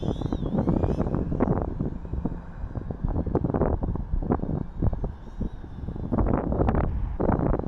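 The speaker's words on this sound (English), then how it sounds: "Oh my gosh, this wind is killing me." Wind buffets the microphone of a DJI Avata FPV drone in flight, a gusty roar with scattered crackling bursts running steadily at close range, no voices over it.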